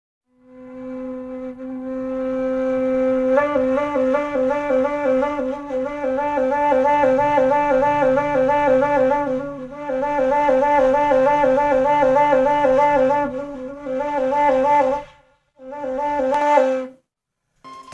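A breathy saluang bamboo flute plays a sustained note, then a rapidly trilling, wavering melody that continues steadily before breaking off in short phrases.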